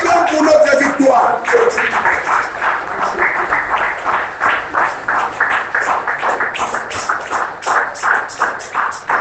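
A church congregation breaks into rhythmic applause after shouts of praise, the clapping steady and fairly loud through most of the stretch, with voices at the start.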